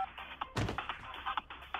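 A phone ringtone plays back as a quick, muffled melodic series of tones with a short burst of rustling midway, heard at close range with no speech.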